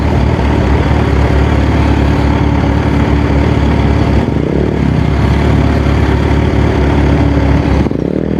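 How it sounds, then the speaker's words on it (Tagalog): Road traffic jam with vehicle engines idling nearby, a continuous low, steady engine drone filling the whole stretch with no speech. "Kaya pala nag-traffic dito."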